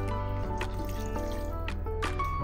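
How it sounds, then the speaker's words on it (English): Water trickles and drips from a mixie jar into a stuffed brinjal masala, with small splashes over a steady low hum. "to the same mixie jar, I'll add very little water and then add it to this masala"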